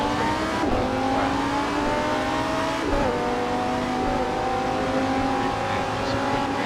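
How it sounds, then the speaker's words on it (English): A race car engine in the Assetto Corsa racing simulator drones steadily and revs up through gears, with pitch climbing and dropping at shifts, continuous and fairly loud. "You're watching us race with Assetto Corsa racing simulator."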